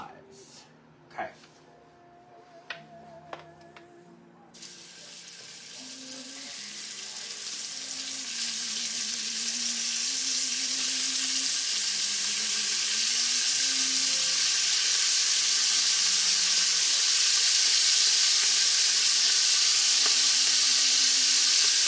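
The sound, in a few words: beef browning in bacon fat, sizzling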